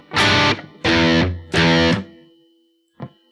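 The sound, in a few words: distorted electric guitar playing a stoner rock riff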